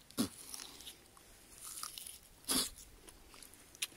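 Crunchy bites and chewing on a raw onion during an onion challenge, a few sharp crisp bites spaced apart with softer mastication between, close up and fairly quiet, no talking.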